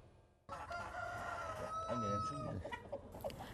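Dong Tao chickens on a Vietnamese poultry farm: a rooster gives a full crow amid overlapping clucks from the flock, fairly close and busy, with no talking.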